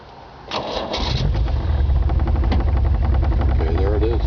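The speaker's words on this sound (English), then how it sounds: "So we'll just turn the ignition system to the on position." A cold car engine cranks briefly and catches, then settles into a steady, low idle around 600 RPM, close and continuous to the end.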